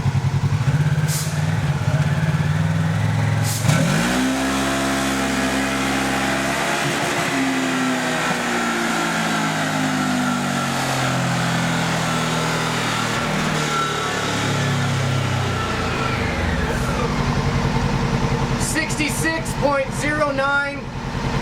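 A 2011 Polaris RZR XP 900 engine on a dyno, with an open exhaust and the spark arrestor removed, revs hard and climbs steadily through a long, loud pull before dropping back off.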